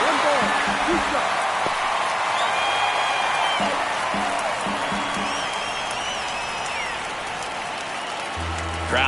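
A baseball stadium crowd at a Blue Jays–Royals MLB game in the ninth inning holds a steady roar with scattered cheers and whistles, while a broadcaster's voice talks over it.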